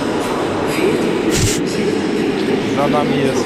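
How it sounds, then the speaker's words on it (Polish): A train at Antwerp Central station, an Intercity service seen from the station's upper level, rumbles steadily and loud nearby, with a brief hiss partway through. Someone talks over it. "pociąg, który nazywany jest przez miejscowych kolejarzy Piesek"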